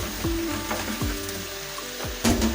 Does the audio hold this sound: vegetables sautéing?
yes